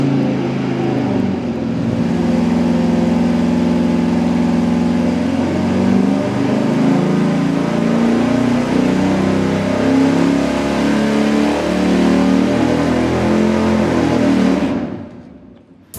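A low-compression 440 V8 on a dyno fires up and revs hard, a loud, sustained roaring pull lasting about thirteen seconds before cutting off abruptly.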